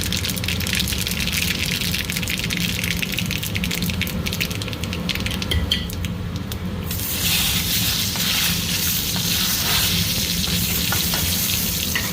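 Garlic, mustard seeds and dry red chillies sizzle steadily in hot oil for a dal tempering, a loud continuous crackling fry with brief stirring noises and no talk.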